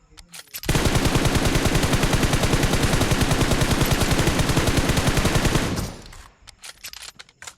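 Sustained automatic gunfire from a video game, a dense rapid burst of shots lasting about five seconds, loud and close, then cutting off to quieter scattered noise.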